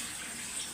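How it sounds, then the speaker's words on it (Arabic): Spices being rinsed under a running kitchen tap, a steady close hiss of flowing water splashing without pause and with no voices over it. "انا بقى هنا اهو تمام نغسل البهارات برضه بتاعتنا"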